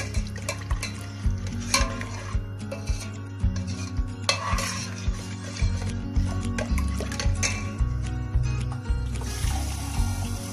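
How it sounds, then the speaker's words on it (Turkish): A spoon stirs a meat and chickpea stew in a pot, scraping and clinking steadily against the metal in a repeated rhythm under a soft simmering bubble, close and clear with no talking. "karıştırayım."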